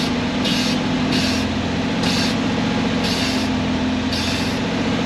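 Brake pedal pumped rapidly on a 1968 GMC C4500 dump truck: five evenly spaced, short hissing squeaks about once a second, close by, over a steady low rumble.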